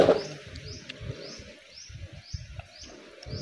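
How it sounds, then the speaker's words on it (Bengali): Macaws calling from an enclosure at a safari park in Cox's Bazar, a few short chirping bird calls repeating at a moderate distance over soft background noise, with no talking. "এখানে কিছু ম্যাকাও রয়েছে"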